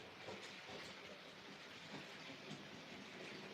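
A small model railway locomotive, a terrier, runs along the track, a faint continuous rolling rumble with soft periodic clicks, quiet and without speech.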